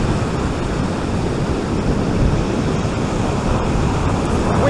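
Strong wind and crashing surf on the Holderness coast at Hornsea South in very windy conditions, a loud, unbroken roar of wind buffeting and breaking waves close by.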